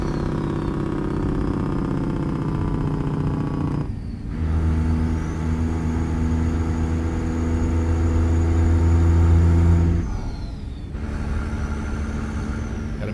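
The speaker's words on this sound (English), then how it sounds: "Using a lot of engine brake today on this road." Heavy truck engine braking in American Truck Simulator, a loud, steady low rumble that drops off briefly twice and then resumes, with no talking.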